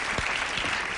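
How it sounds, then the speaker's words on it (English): A studio audience on a late-night talk show claps in a dense, steady burst of applause that fills the whole short moment. "I don't know if the audience is applauding the horn or the camera shot."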